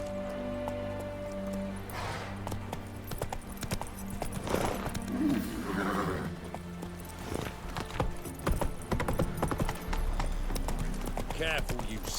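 Roach the horse galloping in The Witcher 3, a steady clip-clop of hooves under game music, with voices talking over it.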